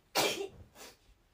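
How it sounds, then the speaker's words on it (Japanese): A single sharp, close sneeze bursts out, followed by a softer breathy exhale a moment later. "くしゃみしてきた。"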